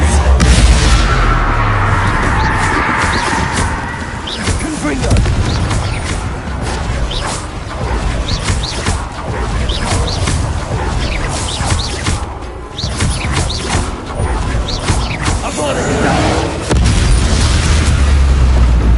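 Explosive Confringo spell blasts in Hogwarts Legacy, loud booming bursts and crashing impacts layered through a chaotic duel lasting nearly twenty seconds, with combat effects throughout.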